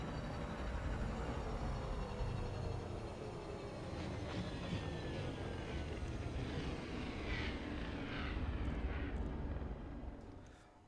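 The engine of an Imperial Courier spaceship in the Elite Dangerous video game roars as a steady, dense, jet-like whine, with rising and falling tonal sweeps layered over a constant rumble, fading slightly at the end.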